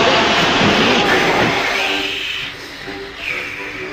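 Storybook steam engine running in a tunnel, a loud continuous hissing, chuffing roar that eases slightly toward the end with softer whooshes.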